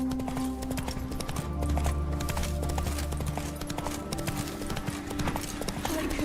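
Roach, the horse in The Witcher 3, clip-clops in a brisk steady rhythm beneath game music and dense ambience, with spoken dialogue running over the hoofbeats.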